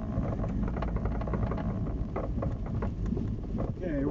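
A 1949 Nash Ambassador Airflyte barn find with flat-spotted tires rolls along, its steady low engine and road rumble continuous and close, mixed with wind buffeting throughout.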